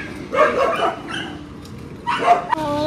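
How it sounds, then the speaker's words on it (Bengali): Several dogs bark in short overlapping bursts, with a yipping, whimpering whine near the end, moderately close outdoors, with quieter stretches between the bouts. "কতগুলো কুকুর এসেছে দেখো"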